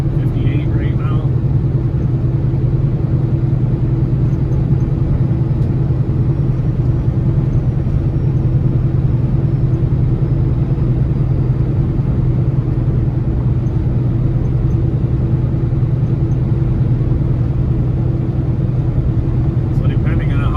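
Steady, loud engine drone and road rumble from a car cruising at about 58 mph on a highway in stormy weather, continuous throughout with no clear breaks.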